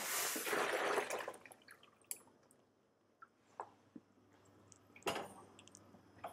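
Cooked carrots drained through a strainer in a kitchen: a brief splashing pour at the start, then scattered faint drips and small clinks in a quiet room.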